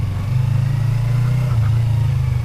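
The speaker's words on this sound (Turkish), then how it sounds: "İlk günden şöyle bir de motorla havalı bir girişimiz olsun." Yamaha R25 motorcycle engine running steadily close by, a continuous low droning hum that holds an even pitch with a slight dip and recovery midway, loud and unbroken throughout with no talking.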